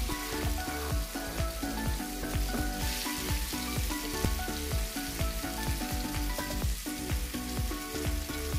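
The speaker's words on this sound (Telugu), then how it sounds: "తర్వాత మనం తరిగి పెట్టుకున్న ఉల్లిపాయ టమాటా ఓన్లీ చక్కగా ద్వారగా వేగనివ్వాలి." Chopped onion and tomato fry in a pan for a homemade chaat, giving a dense, steady crackling sizzle that stays loud and close all the way through, with no talking.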